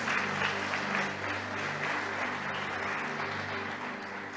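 A church congregation breaks into loud, sustained applause, dense overlapping clapping from a large crowd filling the room and holding steady for several seconds before easing slightly.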